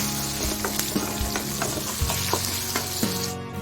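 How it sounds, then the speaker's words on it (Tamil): Onions fry in a pan with a constant sizzle, broken by a regular series of sharp spatula taps and scrapes as they are stirred, all beneath background music. "சேர்த்துட்டு நல்லா கிளறிக்கோங்க வெங்காயம் ஓரளவுக்கு மணங்கில் வரட்டும்"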